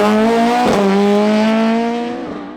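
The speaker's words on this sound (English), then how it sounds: "it's Ryan Hunter's Red Top Fiesta that leads the way" A red Ford Fiesta rally car in the up-to-2.1-litre 16-valve class races at a winter rally stage, its engine note loud and steady, climbing in pitch through the gears with a brief tyre or gearchange break midway before fading slightly.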